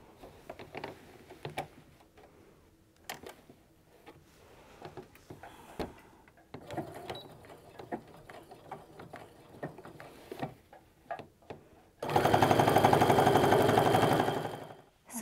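Sewing machine running a short burst of stitching on a fabric apron, a loud steady whir near the end following quieter handling clicks and rustles.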